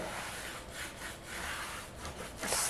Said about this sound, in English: start burnishing.